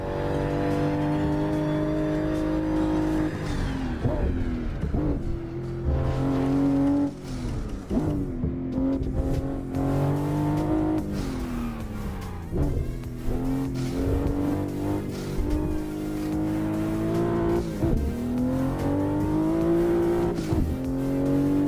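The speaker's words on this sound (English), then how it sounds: "This is the Supra MK5 and I'm driving in the No Hesi server." A Supra MK5 driven in a racing simulator game on the No Hesi traffic server, its engine droning steadily and loudly throughout, revving up and down in repeated surges between gear changes.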